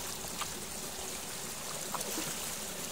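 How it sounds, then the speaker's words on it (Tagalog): A stream current flows in a steady, close rush of water, with a few brief splashy accents breaking through the continuous wash and no talking. "Yan yung agos niyo mga idol."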